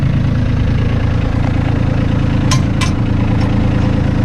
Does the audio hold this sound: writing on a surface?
no